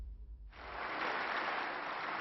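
Sustained applause from supporters of Silvio Berlusconi in the Italian parliament in Rome, bursting in after a half-second of low rumble and holding as a dense, steady wash of clapping.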